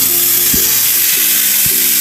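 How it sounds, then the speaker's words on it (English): Steak sizzles in a hot frying pan for carne asada tacos, a loud, steady hiss of frying fat with a couple of brief low thumps, no talking. "Just letting it sizzle in there,"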